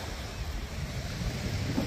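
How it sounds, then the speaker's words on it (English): Steady wind gusting at the seaside while sea fishing with rod and reel at Eastbourne, a continuous broadband rush with low rumble, fairly loud and unbroken throughout, with no voices. "Wind's picked up a little bit."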